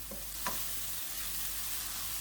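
A steady sizzling hiss of vegetable filling with pepper and mushroom stock frying in a pan, with a couple of brief scraping strokes as the mixture is stirred; no talking.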